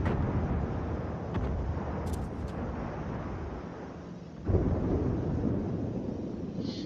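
Naval gunfire in the World of Warships video game: low, rumbling booms roll over a dense background of battle noise, with a sharper close blast near the end.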